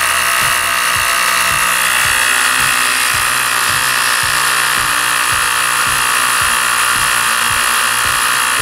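A handheld cordless rechargeable electric tire-inflator air compressor runs steadily with a loud, even motor hiss and a quick, regular low thumping from its pump.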